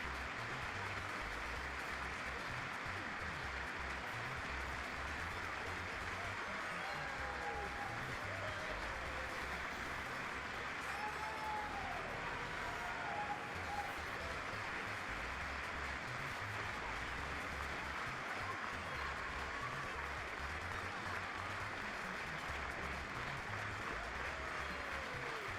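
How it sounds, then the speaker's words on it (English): Sustained applause from a crowd, a dense, even patter of many hands clapping throughout, with faint voices underneath. "What are they clapping about?"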